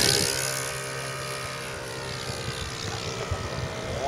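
A P-51 Mustang propeller plane on its landing approach drones steadily and fairly close, its engine and prop tones holding a continuous, slightly wavering roar throughout with no talking.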